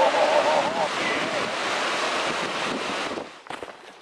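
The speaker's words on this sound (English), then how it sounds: "there were still breaking waves across the channel" Breaking waves surge across a sea channel by a bay on Kangaroo Island, a steady loud wash of surf with wind buffeting the microphone, easing slightly near the end.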